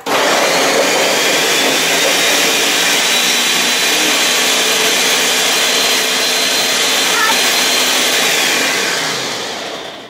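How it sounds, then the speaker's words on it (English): A home blender whirs continuously at high power while blending a healthy breakfast dessert, a loud steady motor drone with grinding texture that holds for about nine seconds before tapering off at the end. "if your blender is not so awesome, it'll blend at the bottom, but not at the top"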